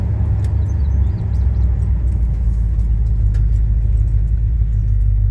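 A 1978 Chevy C10 truck engine rumbles steadily while driving, a loud, constant low drone heard from inside the cab with no talking.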